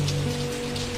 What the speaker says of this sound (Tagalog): Gabi na po umuulan pa.